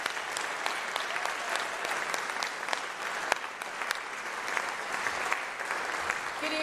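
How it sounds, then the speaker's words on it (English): Audience applause after a youth brass band concert, sustained steady clapping from a full crowd with scattered sharper claps throughout, continuous and fairly loud with no voices standing out. "Let's give these guys one more round of applause."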